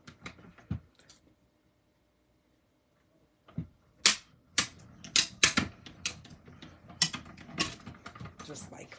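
A die-cutting machine cranks paper pieces through after a brief shuffle and a silent pause, producing a loud, close series of sharp mechanical clicks and clacks with uneven rhythm.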